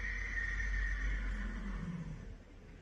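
A horse neighs in a long, steady whinny that carries through most of the short clip over a low rumbling background, then fades toward the end.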